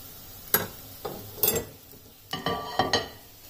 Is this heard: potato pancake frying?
yes